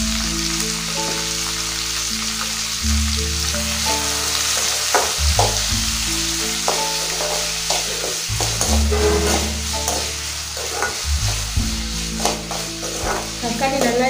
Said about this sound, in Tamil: ரெண்டு பழமாக தக்காளி கட் பண்ணதை சேர்த்துக்கலாம். தேவையான உப்பு சேர்த்து வதக்கிக்கலாம்.